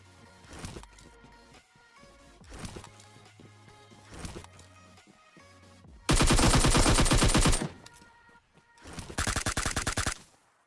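Rapid automatic gunfire in PUBG Mobile, with scattered single shots and then two loud, dense bursts of fire, close and dominant, with no talking.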